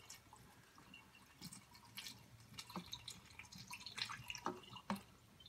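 Coolant trickling and dripping into the cooling system of a 1996–2004 SVT Cobra through the crossover, a quiet liquid pour with scattered drips and splashes close by, no talking.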